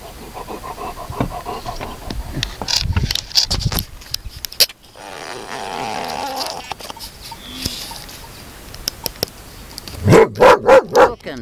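A dog near a shepherd's flock of sheep in the Orhei region of north-eastern Moldova pants and gives a few short yips and barks, loudest in a quick burst at the end, with other outdoor noise around it.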